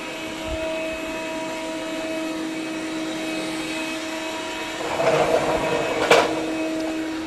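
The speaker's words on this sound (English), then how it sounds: "They both are doing a good job of vacuuming this carpet." A Dreame robot vacuum runs over a carpet cluttered with debris, giving a steady close motor whir with a brief louder surge of suction or brush noise near the end.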